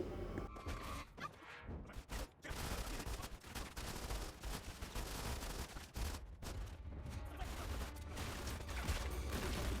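Rapid gunfire in Modern Combat 5, dense bursts and volleys of shots crowding together with a few short lulls, loud and busy throughout.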